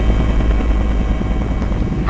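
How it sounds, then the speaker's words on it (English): Helicopter waiting to lift off for a heli-skiing run near Revelstoke, Canada, its low rotor and engine roar loud, close and steady throughout. "We're about to bump out in the helicopter"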